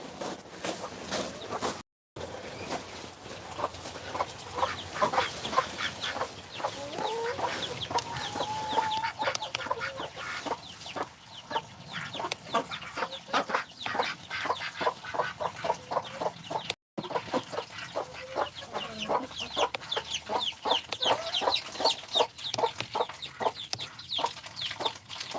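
Chickens cluck steadily in a farm pen, a dense run of short clucks from several birds close by, with no talk over them.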